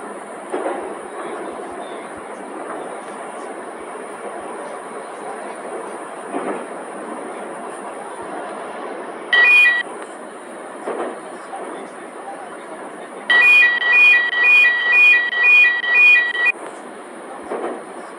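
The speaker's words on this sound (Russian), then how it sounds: "Поезд следует до станции Автозаводская." A Moscow metro train of the 81-765 type runs between stations with a steady rumbling roar and wheel noise, broken by brief high electronic tones and a repeating beep sequence, with no one talking nearby.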